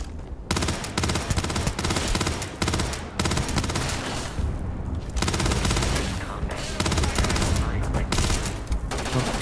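Rapid bursts of automatic gunfire crackle in the video game Starfield, loud volleys broken by a few short pauses.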